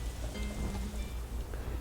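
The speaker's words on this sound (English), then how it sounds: "so the rain doesn't overpower my voice" Steady rain from the farming game Harvest Moon: A Wonderful Life hisses continuously, an even broadband wash with a low rumble beneath and no voice over it.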